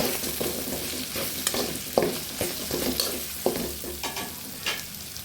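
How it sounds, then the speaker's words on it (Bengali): Haleem mix with turmeric and chili sautés in a pan, giving a continuous soft sizzle with repeated scraping stirs, close and moderately quiet. "পানি দিয়ে হলুদ মরিচ দিয়ে এটাকে এভাবে কষিয়ে নেবে"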